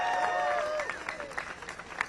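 A crowd at a Harvard protest supporting international students claps and cheers, a short burst of applause mixed with high whoops and whistles that tapers off.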